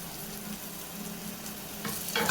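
Tomatoes sautéing in oil in a covered pan for a chicken curry masala, a steady close sizzle that rises slightly toward the end, with no talk.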